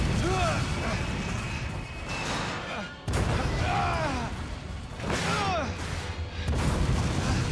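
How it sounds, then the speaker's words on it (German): Explosions in the video game Resident Evil 2, several heavy booming blasts with crashing debris, loud and close, spaced a few seconds apart, with a voice talking over them. "Explosionen sind immer auf unserer Seite"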